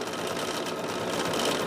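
A home sewing machine runs in one steady, fast whir while stitching half square triangles along a marked line for a pumpkin quilt block, close and uninterrupted.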